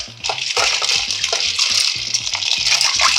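Buckwheat noodles are plunged into ice water and stirred by hand, giving a close, continuous wet swishing and sloshing with small splashes throughout, with no talk over it.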